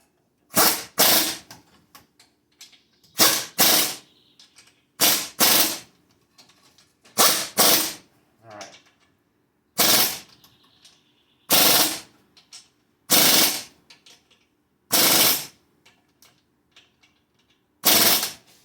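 An impact power tool snugs up wheel bearing bolts on a Chrysler Town and Country during a front wheel bearing replacement, firing loud, close rattling bursts in repeated short pulses separated by brief silences.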